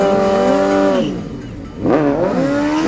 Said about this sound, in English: The next duel is between Juan Ardila on his Suzuki GSX-R600 and the top qualifier, Steven Rivera, on the Suzuki GSR750